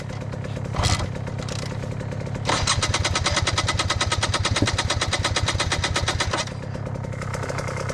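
A dirt bike with a Billetron carburettor cranks over in snowy weather without catching, a steady rapid chug of the engine turning for several seconds, loud and close, with a brief burst before it.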